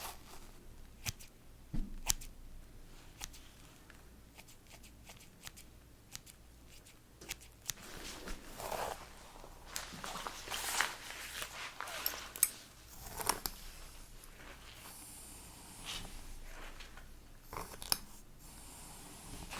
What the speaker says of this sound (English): your hair's easy to trim